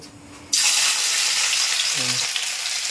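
Chopped ginger drops into hot oil with a sudden loud hiss, then keeps up a steady, close sizzle, with a brief voice murmuring near the end.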